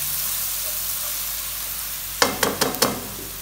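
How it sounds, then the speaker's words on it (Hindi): A garlic and ginger spice paste fries with onions in a pan, a steady close sizzle, then four quick scraping stirs near the end. "इसको करेंगे मिक्स और भूनेंगे 2 से 3 मिनट कि इसकी खुशबू जो है वो प्याजों में जज़्ब हो जाए।"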